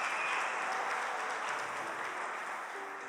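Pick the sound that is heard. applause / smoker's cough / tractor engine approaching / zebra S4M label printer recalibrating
applause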